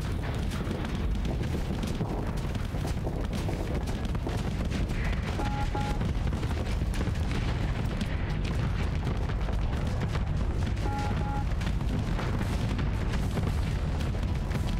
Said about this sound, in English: Wait, did all our guns explode?